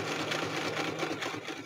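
A sewing machine runs steadily, stitching the bottom edge of a junk journal made from a Little Golden Book, its rapid, even whirring close and continuous.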